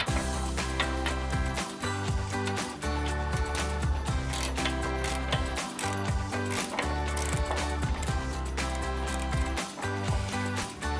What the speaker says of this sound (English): I actually have an 8mm ratcheting wrench just to help and hold it with an 18mm wrench